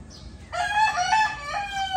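A rooster crows loudly and close by, one long drawn-out call with a stepped, rising and falling pitch, over a low background hum.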